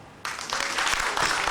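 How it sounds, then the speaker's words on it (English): An audience at a school anniversary staff banquet bursts into applause for the guest speaker, starting abruptly after a brief quiet and building into a loud, sustained wash of clapping. "give a big, big round of applause to our guest speaker"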